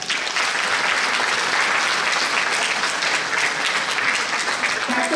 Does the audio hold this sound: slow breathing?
no